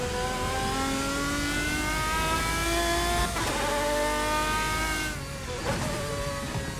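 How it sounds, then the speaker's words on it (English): Race car engine in Assetto Corsa, a GT-class racer at Le Mans, with a sustained high turbo whine riding over the engine note as revs climb and shift, loud and continuous with no talking. "Do love the whine of the turbo though, I must say."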